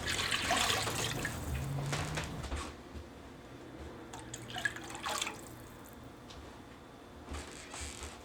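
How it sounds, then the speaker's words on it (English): Water poured from a cup into a cast iron soup pot of split pea soup, a short splashing pour followed by faint drips, clinks and quiet kitchen handling. "Five and a half more cups of water."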